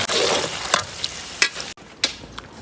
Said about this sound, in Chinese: 锅中加油，这是上这炸鸡腿剩下油，油温8成热，下入虾尾